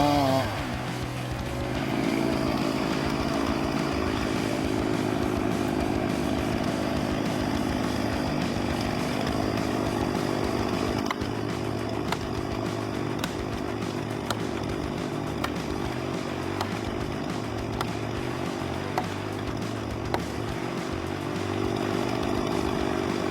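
A chainsaw runs steadily at high revs while cutting through huge trees during logging, a loud continuous motor drone with a buzzing engine tone that holds throughout, with small shifts in load as the chain bites into the wood.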